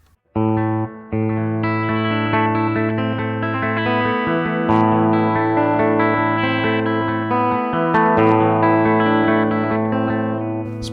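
LTD EC-401VF electric guitar on the bridge pickup strums chords and picks notes steadily, loud and upfront, with light reverb and slight grit.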